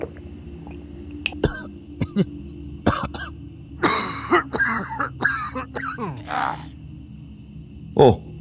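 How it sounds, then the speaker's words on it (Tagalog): A person coughs and clears their throat several times in rough, uneven bursts, close by, with a few pauses and a final harsh cough. "Parang iba na yung tunog ng ubo mo."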